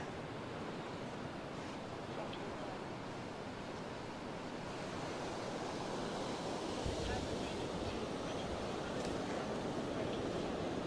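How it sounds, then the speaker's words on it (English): Strong wind buffets a microphone at a beach, a loud, steady roar of rushing air with surf underneath, continuous for the whole stretch. "The wind is strong. Wind is quite strong."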